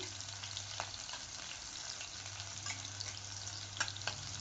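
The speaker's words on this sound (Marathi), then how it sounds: "आता लसूण पण परतून चांगला घ्यायचा।" Garlic and green chillies fry in oil in a pan for Marathi-style methi bhaji, a steady close sizzle with small crackles and pops throughout, no voices.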